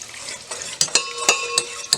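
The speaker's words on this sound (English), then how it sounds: "I will slowly start adding the milk so that we don't get any lumps in this one" A whisk or spoon scrapes and stirs as milk is worked into a flour roux in a pot for cauliflower cheddar soup, giving a run of sharp, close clicks and swishes against a soft background hiss.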